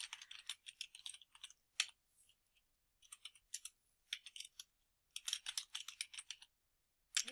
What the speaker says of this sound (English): I'll press tab and continue typing.